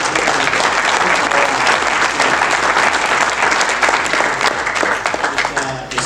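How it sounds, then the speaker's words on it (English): Loud, sustained applause from a symposium audience, dense steady clapping filling the room for several seconds before beginning to thin out at the end. "So I would like for everybody to give them a round of applause again"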